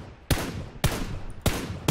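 Three loud, sharp bursts of gunfire from the PUBG battle royale video game, spaced roughly half a second apart, each a broadband crack with a short ringing tail, close and with no voices.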